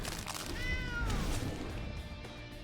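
A short cartoonish cat meow plays as the Ice Cream Kitty card is put into a digital card game, a single clear rising-falling call at moderate level.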